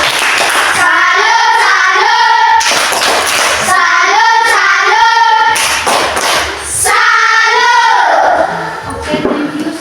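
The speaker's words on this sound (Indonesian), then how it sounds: "tepuk salut untuk kelompok 3" Classroom students doing a 'tepuk salut' clapping cheer for a group, loud rhythmic patterned claps in bursts with children's voices chanting along.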